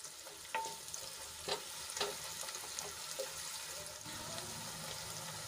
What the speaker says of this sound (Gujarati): તો ડુંગળીને આપણે ગુલાબી રંગની થાય ત્યાં સુધી ઢાંકીને ચડવા દઈશું